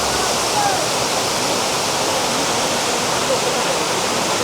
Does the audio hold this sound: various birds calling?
no